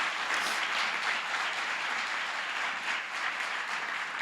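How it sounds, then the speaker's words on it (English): An audience at an entrepreneurship pitch competition gives sustained applause to the family funding the prize, a full, steady patter of many hands clapping at even strength with no talk over it. "we owe an enormous round of applause, again, to the Ansary family for putting up this generous prize today"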